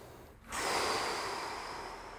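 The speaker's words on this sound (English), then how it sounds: "Take a big deep breath. One more. Focus on the exhale." A slow, deep exhale during a foundation training breathing exercise, a steady breathy rush that begins after a brief quiet gap and fades gradually, close and alone.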